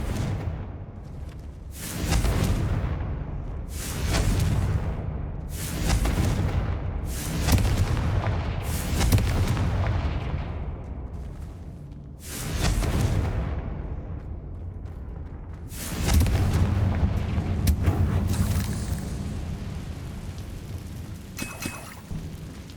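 Repeated Confringo fire spells exploding in Hogwarts Legacy, a series of loud, booming blasts that come in quick succession and each fade out with a rumbling tail, with a brief pause midway and a final burst of blasts.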